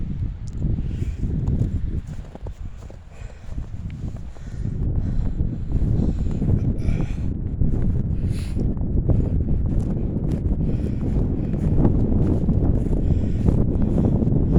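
Strong wind buffeting a microphone outdoors in Oakland Cemetery on a cold day, a continuous loud rumbling roar that builds slightly and never lets up.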